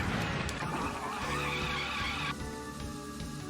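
A gunbike in a video game skids and spins out, producing a sustained, loud tire-screech whine with a steady engine tone underneath, tapering slightly after a couple of seconds.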